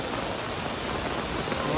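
Rain patters steadily on surfaces, a brief continuous hiss of drops close by.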